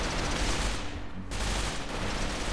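Rapid gunfire from a firefight in the video game RimWorld, a dense continuous fusillade of overlapping shots that fills the whole short stretch, loud and steady with no talking.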